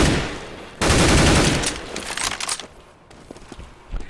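Rifle spray in Counter-Strike on Dust 2, a loud burst of rapid shots that fades into scattered echoes and a few trailing clicks and faint footsteps.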